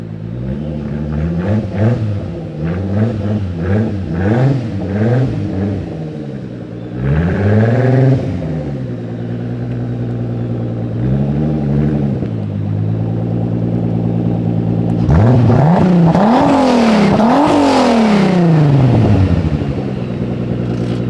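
An Audi B5 S4 engine revs repeatedly after rear brake work, pitch rising and falling in bursts, then climbs to a louder, longer rev near the end, close and alone.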